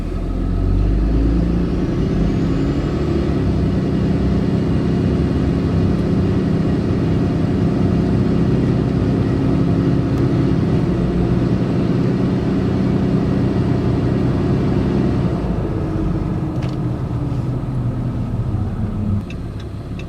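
A diesel truck fitted with a 68RFE automatic transmission drives steadily, its engine producing a continuous loud, low rumble close by that holds for about fifteen seconds before easing slightly toward the end. No one speaks over it.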